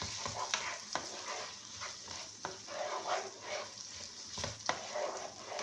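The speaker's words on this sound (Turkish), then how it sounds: "Ve salçamızı da kavuruyoruz." Tomato paste being fried together with vegetables and chicken for a chicken and pea dish, a soft steady sizzle with occasional sharp spoon scrapes and stirring clicks against the pan, no talking.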